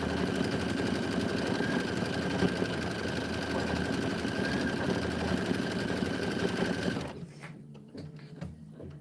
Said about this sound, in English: So let it do the stitching